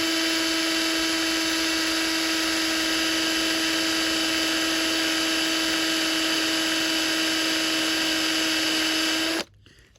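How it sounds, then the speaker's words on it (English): A steady high-pitched whine of a small drill boring a hole during a Mercedes rear wiper motor repair runs continuously for several seconds, then cuts off abruptly. "I'm just going to start to drill a small hole"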